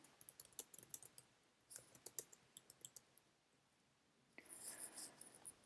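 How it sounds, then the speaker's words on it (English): Computer keyboard typing in quick irregular bursts of clicks, close and fairly quiet, pausing midway before a brief denser rush of clatter near the end. "Let's type that in."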